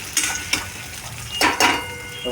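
Potatoes and peas frying in a pan, with a few sharp scraping stirs and clinks of a utensil against the metal over a steady low sizzle.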